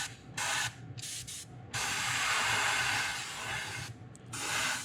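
Final coat of spray paint going onto a fishing lure, close hissing bursts of varying length, a few short puffs then a longer continuous spray, with no voices.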